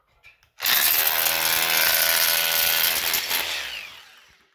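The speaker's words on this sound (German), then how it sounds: "So, eine Schlagbohrmaschine." A hammer drill whirs loudly in a carpentry workshop during drywall substructure work, starting abruptly and running steadily for a few seconds before winding down, with no talking.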